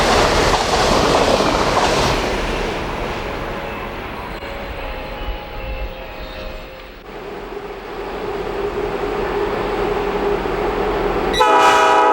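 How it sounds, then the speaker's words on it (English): An Amtrak E60 electric locomotive, number 603, leads train 43 past on the Northeast Corridor. A loud rumble of passing cars fades and settles, then a sharp horn blast sounds near the end. "E60 number 603 is in charge of the Pennsylvania, Amtrak number 43."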